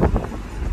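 Outdoor wind buffets the microphone on a German street with a low steady rush and brief gusting swells, no voices present.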